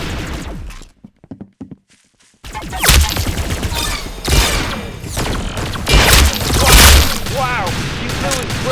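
Rapid gunfire and crashing blasts from a shooter video game, loud and dense with a brief quiet gap before the shooting resumes.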